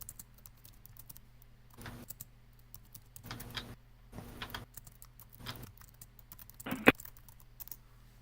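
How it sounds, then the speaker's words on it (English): Typing on a computer keyboard during an online tabletop role-playing session: several short bursts of soft key clatter separated by pauses, faint and close, with one sharper tap near the end and no talk. "I'm typing out my response to Susan."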